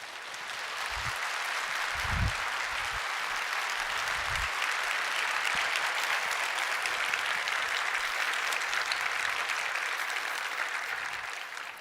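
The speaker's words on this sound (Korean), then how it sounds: "나오실 때 목사님을 환영하며 크게 박수해 주시기 바랍니다." A church congregation at a Sunday service claps at length to welcome a pastor, sustained and fairly even applause filling the hall, with a few low thumps early on.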